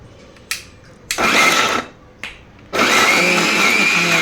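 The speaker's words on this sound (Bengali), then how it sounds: "আদাগুলো কুচি করা হয়ে গেছে, এখন ব্লেন্ডার করার জন্য বসে পড়লাম" Electric blender grinding chopped ginger in loud whirring bursts: two short pulses, then a sustained run of about a second, a brief pause and another long steady run, close by.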